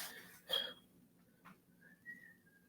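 Faint, thin whistled chirps and a short rising whistle from a singing cockatiel come and go in a quiet room, soft and a little distant.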